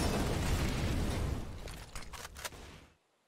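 A flashbang detonates in a Counter-Strike match: a loud broadband burst followed by crackling bright pops and a brief high ringing, then sudden silence.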